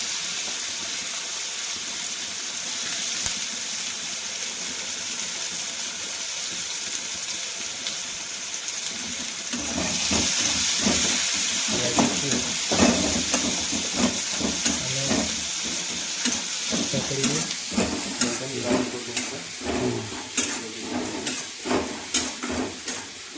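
Cumin, dried chilli and onion fry in hot oil in a wok, with a soft hiss at first, then louder sizzling and repeated stirring scrapes, close by and with no speech.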